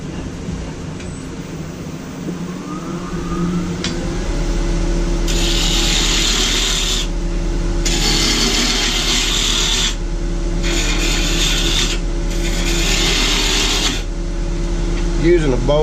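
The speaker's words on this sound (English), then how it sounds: "using a bowl gouge here. Not the best tool for spindle work." A wooden tobacco pipe being shaped on a lathe with a bowl gouge: steady motor hum under repeated bursts of rasping, scraping cuts, several strokes of a few seconds each with short pauses between.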